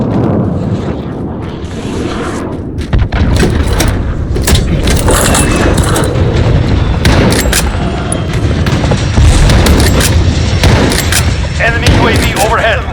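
Precision airstrike explosions hammer a Call of Duty Modern Warfare Ground War battlefield, a loud chaotic run of booms and rumbling blasts mixed with gunfire cracks, continuing for many seconds with faint voices in the background.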